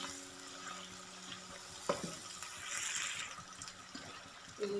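Spices and chopped green chillies frying in a pan for daal mash, a soft steady sizzle with occasional stirring scrapes and clinks, close and fairly quiet.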